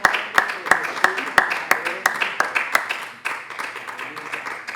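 Congregation at a church sermon breaking into applause, sharp individual claps in a loose uneven rhythm, fairly close and loud, with voices mixed in throughout.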